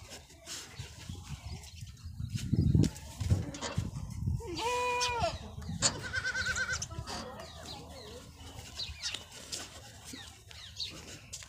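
Goats bleat several times at close range among other farm animals, including clucking chickens, in a rural yard, with scattered background noise and a little talk.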